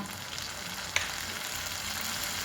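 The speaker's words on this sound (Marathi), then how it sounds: "आणि मग फक्त अशी फोडणी द्यायची" Spices for a Marathi-style tadka on green beans sizzle steadily in a hot pan, a constant close frying hiss with one sharp clink partway through.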